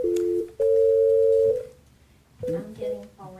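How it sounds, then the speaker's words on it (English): A telephone dial tone hums steadily during a commission meeting call, apparently over a speakerphone, then breaks off into shorter tones and faint background sound. "I'm getting Paul Rennick on the phone for this one."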